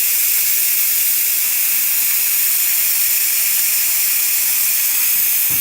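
Steady loud hiss of steam venting from an Instant Pot pressure cooker during a pressure release for beef stew, continuous and unbroken throughout with no voices.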